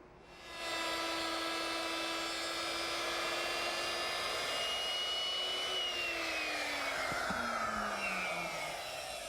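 A power tool cuts a decorative chamfer along a wooden beam, a loud continuous high-pitched whine that starts after a brief moment and holds steady, dipping slightly in pitch toward the end as it bears into the wood.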